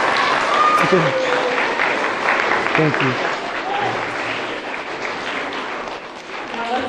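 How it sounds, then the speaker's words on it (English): Schoolchildren and adults at a charter school assembly clap in sustained, moderately loud applause, with voices and a brief spoken thanks mixed in. "Give them a big round of applause."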